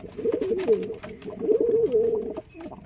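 A white-eyed pigeon coos near a coop, two close, throaty rolling phrases in quick succession before a brief quiet moment.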